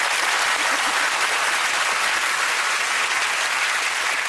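A television studio audience breaks into loud, dense, continuous applause, sustained evenly from start to finish with no talking over it.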